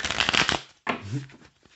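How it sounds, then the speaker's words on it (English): Quick riffling and shuffling of a deck of tarot cards, close and fairly loud, in two short bursts separated by a brief pause. "Let me make sure I shuffle up real good here."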